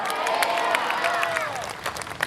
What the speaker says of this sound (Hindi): परमेश्वर के लिए जोरदार ताली बजाएं